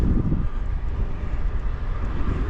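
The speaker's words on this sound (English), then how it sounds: "It turned into a headwind." Strong headwind of about 10–15 mph buffets the microphone on an open, exposed road, a loud steady low rumble with gusty fluctuations throughout and no other sounds standing out.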